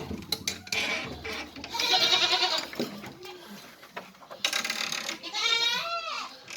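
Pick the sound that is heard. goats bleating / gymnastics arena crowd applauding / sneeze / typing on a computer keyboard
goats bleating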